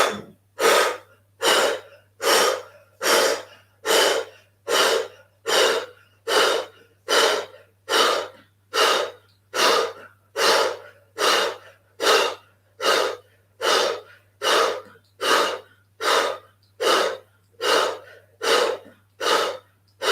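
Forceful rhythmic breathing during a yoga exercise, around twenty sharp, evenly spaced breaths in a steady pulse, close and loud, with no talking.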